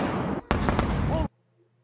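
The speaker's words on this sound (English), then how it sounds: "there is the same exact firecracker sound without the camera shake on a different day" A loud, crackling firecracker-like burst from a rocket launch fills about a second in two dense blasts separated by a brief gap, then cuts off abruptly to near silence.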